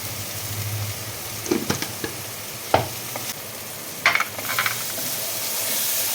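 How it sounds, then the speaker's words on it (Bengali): Spices sizzling as they are sautéed in a pan for a fish curry, a steady close hiss broken by several sharp scraping and clinking stirs, with no voices. "এবার মশলাটা ভালো করে কষতে লাগবে"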